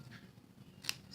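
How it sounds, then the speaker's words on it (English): Scissors snip slits into card for a graduation gift card holder, one crisp close cut at a quiet table. "let's first take our scissors"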